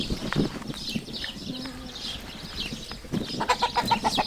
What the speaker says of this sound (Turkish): burada erkek tavuklar